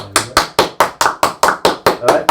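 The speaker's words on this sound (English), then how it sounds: "Let's give a round of applause for Thomas Burton's father." Hands clap in about ten sharp, evenly spaced beats, loud and close, a rhythmic applause for Thomas Burton's father on a podcast recording.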